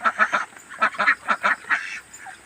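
Domestic ducks raised in the Philippines during a long dry-season drought give a rapid series of about ten close, loud quacks in quick bursts, then a few quieter calls, with no talking.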